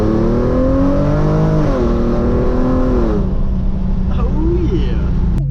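Hyundai Genesis Coupe 3.8 with ARK downpipes and ARK exhaust accelerating hard in first gear with traction and stability control off; the engine note climbs loud and close, shifts, then drops away under a faint whine.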